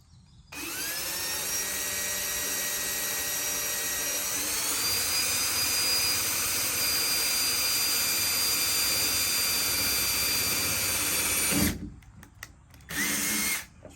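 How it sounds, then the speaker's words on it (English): An electric drill whines steadily at close range for about eleven seconds, its pitch shifting slightly as it bites in, then stops with a couple of short bursts. "I think I'm just going to drill it straight in the center."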